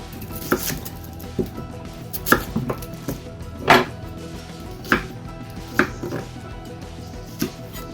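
Knife chopping onions on a cutting board for French onion soup, a run of sharp, separate cuts at an irregular pace, fairly close, with faint kitchen clatter behind and no talk.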